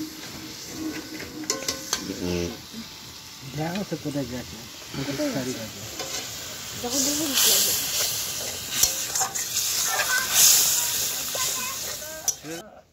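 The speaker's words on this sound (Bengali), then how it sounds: "গ্রেভিটা একটু কষিয়ে নিচ্ছে" Marinated meat gravy for biryani sautés in a pan at an outdoor picnic, a hissing sizzle that swells louder in the second half, with clinks of utensils and people talking over it in the first part.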